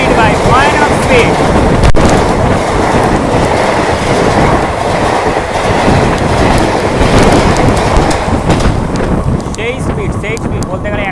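Train 13465 Malda Town Intercity Express races past a platform at about 100 km/h, a loud, sustained roar of wheels and rapid clickety-clack with a sharp bang early on.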